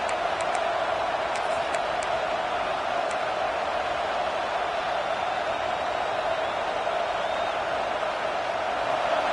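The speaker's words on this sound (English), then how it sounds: "This crowd knows when to bring it." A large football stadium crowd at a Georgia State vs LSU college game roars steadily, a dense, continuous wash of cheering that holds at an even loudness throughout.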